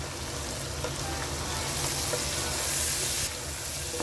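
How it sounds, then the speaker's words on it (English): Kabsa rice with dried lemon being stirred in a hot pot, a continuous close sizzle with soft scraping and shuffling as the spoon moves through, steady and fairly loud. "now stir nicely"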